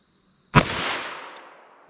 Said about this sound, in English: let's hit that with our 32 H&R Magnum